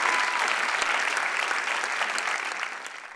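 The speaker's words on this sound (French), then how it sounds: "on va l'applaudir bien fort, s'il vous plaît" Applause from the audience at a diploma ceremony for the top graduate of a history degree, a dense steady wash of many hands clapping that fades slightly toward the end.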